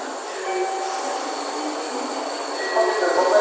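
A Tokaido Shinkansen Kodama train at a Nagoya station platform gives a steady, fairly loud rumble of rolling stock, with faint sustained tones above it that swell slightly near the end.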